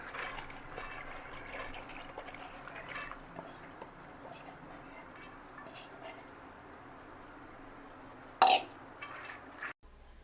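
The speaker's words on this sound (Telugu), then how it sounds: "సో 2 కప్స్ ఆఫ్ వాటర్ పోస్తున్నాను ఇక్కడ" Water is poured onto soaked chana dal in a pressure cooker, making a soft, continuous trickling wash. A sharp metallic clunk comes near the end, followed by a brief quiet.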